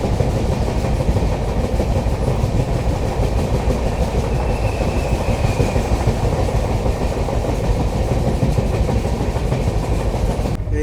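The 12857 Tamralipta Express running between Howrah and Digha, heard from inside a coach as a loud steady rumble with rhythmic clickety-clack of wheels over rail joints and no talk.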